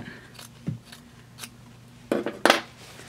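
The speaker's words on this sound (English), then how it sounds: "go ahead and get your scissors, and you cut" Several crisp snips of scissors cutting off extra quilt binding fabric, scattered at first and then two quick cuts close together, near and clear in a quiet room.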